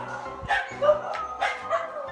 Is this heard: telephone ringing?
no